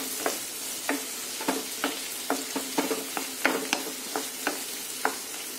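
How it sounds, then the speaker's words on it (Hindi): Onion and tomato masala for paneer lababdar fries in a pan over a raised flame. A spoon scrapes and stirs in about a dozen uneven strokes over a steady, soft sizzle. "थोड़ी फ्लेम हम बढ़ा लेंगे और इसको भून लेंगे अच्छे से।"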